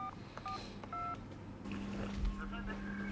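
A telephone number dialed with touch-tone keys, a quick series of short steady beeps in an uneven rhythm, followed by a long continuous tone, all faint over a hissy background.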